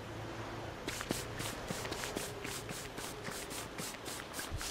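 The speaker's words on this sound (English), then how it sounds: "Sounds like clanking." Metallic clanking in the video game Don't Starve, starting after a short pause and then repeating in a steady, regular rhythm of evenly spaced clanks, moderately faint over quiet ambience.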